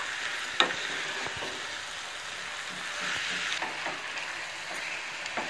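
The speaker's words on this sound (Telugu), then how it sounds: "ఇప్పుడు దీన్ని కూడా మనం ఆనియన్ డీప్ ఫ్రైలో వేసేసుకుందాం. ఇప్పుడు దీని మొత్తాన్ని బాగా మిక్స్ చేసుకోవాలి" Country chicken coated in masala being stirred into a pan of deep-fried onions, giving a steady, close sizzle with occasional scraping and clinks of the spoon, no voices.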